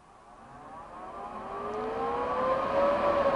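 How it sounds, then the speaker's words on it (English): Cooling fan of a Fronius Magicwave 230i welder cycling during its shutdown mode, a whirring tone that rises steadily in pitch and loudness as it spins up, heard alone. "Now, the machine itself, we'll turn it off so the fan will cycle on its shutdown mode."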